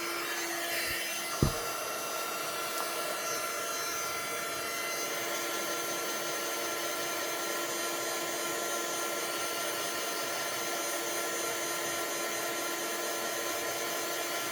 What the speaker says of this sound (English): we're going to take our heat gun and we're going to warm up that other side so that it slides right in there